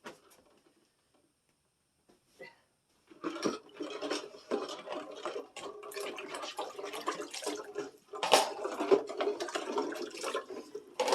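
Hot tap water runs and splashes while dishes are washed, starting after a near-silent pause and continuing as a steady close-up patter with clinks and bumps.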